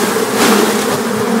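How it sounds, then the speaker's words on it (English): Honey bees shaken off a frame into a box, a loud, dense buzzing swarm very close, steady and continuous throughout, with no talking. "So I'll shake some bees in this with this frame."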